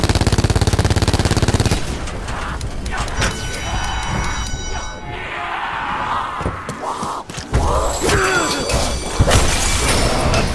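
Gunfire in the Call of Duty Black Ops 4 Zombies mode, a loud rapid automatic burst at the start followed by dense overlapping shots, impacts and game effects throughout.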